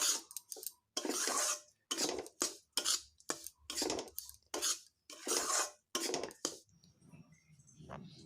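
Roasted semolina and gram flour get mixed in a pan, with repeated scraping and clinking strokes of a spoon against metal in short bursts, close and clear, with no talking.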